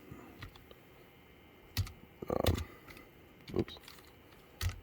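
Several sharp key clicks on a computer keyboard, typing a feed command into a Centroid Acorn CNC controller on a bench, arriving in separate bursts over quiet background hum, with a brief spoken exclamation.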